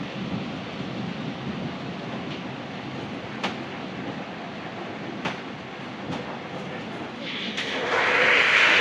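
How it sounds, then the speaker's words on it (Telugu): Heavy rain pours down on a rural road near Kakinada in Andhra Pradesh, a dense continuous roar with a few sharp knocks and a louder gusty swell toward the end. "కుమ్మేస్తుంది వర్షం."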